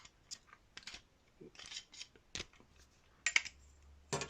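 Plastic part cut off a Bruder road roller model: sharp irregular snips and clicks close by, a few louder cracks near the end, with quiet pauses between and no speech.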